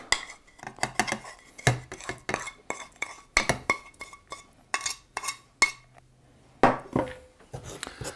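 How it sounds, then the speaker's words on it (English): A utensil scrapes sugar from a bowl into a pan with butter, giving a run of irregular clinks, taps and scrapes of metal and glass close up, each quickly fading, with brief quiet gaps. "all this remaining sugar from the bowl, you can scrape into the pan with the butter"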